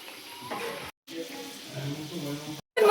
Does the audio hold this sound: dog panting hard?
no